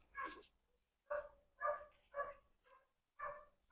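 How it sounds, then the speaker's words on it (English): A dog passing along a road barks repeatedly, five or six sharp barks in an uneven rhythm, fairly distant and moderately quiet, with no other sounds between them. "He's so excited he barks the whole way up the road and down the road."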